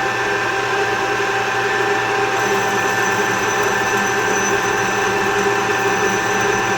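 Aluminum chainsaw cylinder for a Husqvarna 346XP being machined on a lathe, a steady whining motor hum with a constant high cutting tone that runs unbroken and fairly loud throughout.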